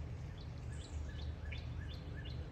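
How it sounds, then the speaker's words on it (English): Birds sing outdoors in repeated faint chirps and short rising whistles, somewhat distant, over steady background noise with no talk. "Do you hear the birds?"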